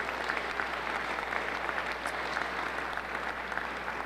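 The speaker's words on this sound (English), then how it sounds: "So let's give them a big round of applause if we can." Steady applause from a town hall audience honoring police, fire and EMS personnel at a mayor's event, a dense, even patter of many hands that holds at a moderate level throughout with no speech.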